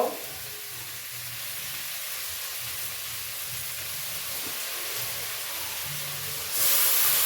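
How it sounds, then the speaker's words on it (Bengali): Water hits a hot pan of spiced small-fish curry with tomato, giving a steady loud steaming hiss and sizzle that swells near the end, with no speech. "সামান্য নাড়াচাড়া করে এবার আমি দেবো জল"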